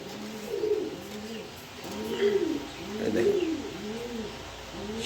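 A male pigeon coos in repeated soft, rolling phrases, several calls swelling and fading over a few seconds, close and clear with no talk.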